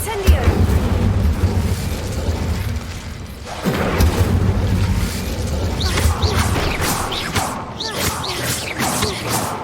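Fire spells cast in Hogwarts Legacy roar and crackle with heavy booming impacts, loud and continuous, with a brief dip before a fresh surge of flame and debris noise.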